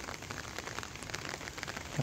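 Steady rain falling on surfaces, a soft, even patter of many drops with scattered louder taps, faint and continuous with no voices.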